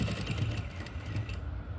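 A sewing machine stitching small fabric scraps, a quiet rapid mechanical rattle running steadily through the moment.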